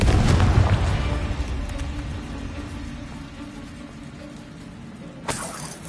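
A Confringo fire spell blasts in Hogwarts Legacy with a loud, booming explosion that rumbles and slowly fades, followed by a second, sharper burst near the end.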